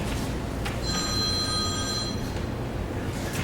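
A telephone rings with a steady electronic tone against a constant background hum, sounding for about a second and a half and then stopping.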